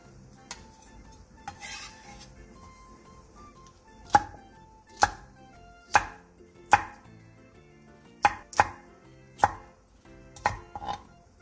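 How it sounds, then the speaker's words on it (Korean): Garlic cloves sliced and green and red chili peppers cut with a knife on a board, about a dozen sharp, distinct chops spaced irregularly, with faint tonal background music. "통마늘 10개를 편썰고 청양고추 2개와 홍고추 1개를 큼직하게 잘라주세요."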